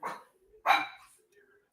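A dog barks twice in sharp, loud bursts close by, with quieter whines in between and a final short yelp at the end.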